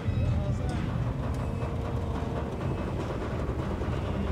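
A train rumbles steadily across a bridge in the video game INDIKA, with a continuous low rolling drone and faint rattling throughout, while a voice talks over it.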